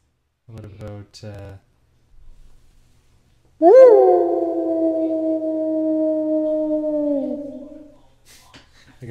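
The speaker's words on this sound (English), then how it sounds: "it was supposed to be a wolf." A wolf howl sound effect plays from a game, one long sustained tonal howl that rises at the start and holds for several seconds before fading, loud and close, with brief talk before and after it.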